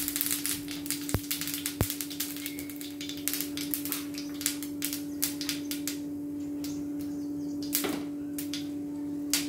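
Mustard seeds splutter in half a teaspoon of hot oil, a close run of sharp irregular pops and crackles that thin out toward the end, with no talking.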